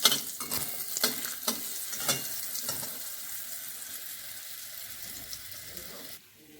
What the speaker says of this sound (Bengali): পেঁপেগুলো একটুখানি নাড়িয়ে চাড়িয়ে নেব।